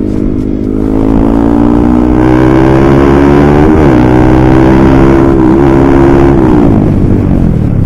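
A motorcycle engine roars loudly and close, revving up and down in several surges over a continuous throaty drone, with no talk.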